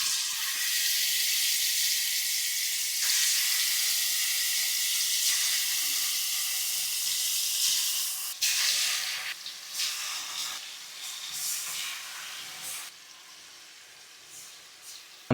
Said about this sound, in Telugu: మ్యారినేట్ చేసుకున్న చికెన్ అనేది మన నూనెలో ఎంపుకోవాలి